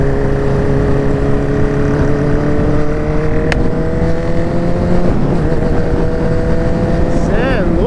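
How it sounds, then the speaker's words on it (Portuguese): A CG 150 motorcycle fitted with a Hornet engine speeds along a highway, its engine droning loud and steady with a sustained high whine that shifts pitch near the end, heard close with constant wind. "essa moto aí corre pra caralho"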